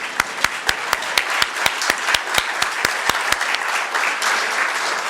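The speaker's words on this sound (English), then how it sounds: "Give them an applause for being salmon." An indoor audience applauds parade participants during a museum history talk, with sharp rhythmic claps at first that blend into a continuous round of clapping which slowly tapers off.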